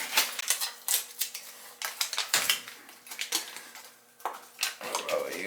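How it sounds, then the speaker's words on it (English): Tape is pulled from a roll and pressed onto a furnace condensate drain, a series of sharp ripping tears and crackles in uneven bursts, close and fairly loud. "I just gotta tape that up"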